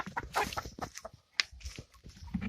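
Chickens cluck in a busy, irregular burst, several birds close by pecking at a whole pumpkin pie set out for them, with short sharp calls overlapping and a brief pause near the middle.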